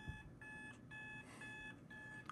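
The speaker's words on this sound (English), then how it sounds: "that was just an alarm that came out" A computer alarm beeps in a repeating electronic pattern of short tonal bursts with brief gaps, steady and moderately loud over a quiet room.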